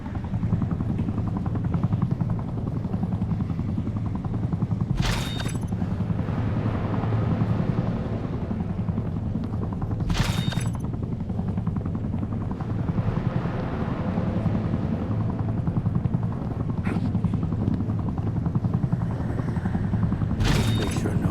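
A helicopter's rotor at a military base in the video game The Dark Knight Rises drones loudly and continuously nearby, with brief bright bursts of noise breaking through every few seconds.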